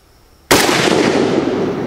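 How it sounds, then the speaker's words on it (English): A single loud AK-47 rifle shot fired while zeroing the sights lands abruptly after a quiet lead-in, then rings out in a long, gradually fading outdoor reverberation. "Okay, that was the first shot."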